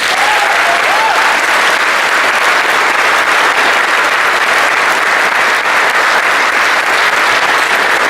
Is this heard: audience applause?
yes